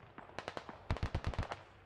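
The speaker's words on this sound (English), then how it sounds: "it looks like they're starting to take shots too" Enemy gunfire in the tactical shooter game SquadOps: a few scattered sharp shots, then a rapid volley of loud cracking bursts, fairly close and with no talk over it.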